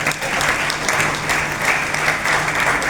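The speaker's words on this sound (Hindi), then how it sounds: "ये हमारी देश की सेना के लिए सबसे कमजोर तालियां हो सकती है" An audience at a public speech applauds with dense, sustained clapping that fills the hall at a steady, fairly loud level.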